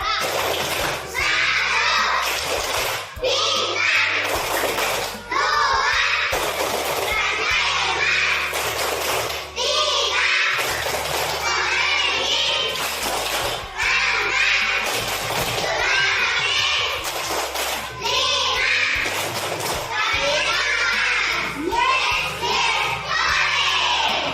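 Children at an elementary school chant and clap the Tepuk Pancasila routine in class, loud and close, with rhythmic claps and thumps under shouted group voices throughout.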